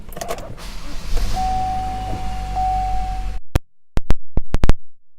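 An electric window motor hums steadily in a 2015 Chevrolet Malibu LT, close and fairly loud above cabin rumble, followed by a run of sharp clicks and thumps as the window stops.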